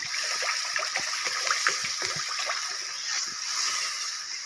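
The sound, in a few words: water poured into mustard spice paste for fish curry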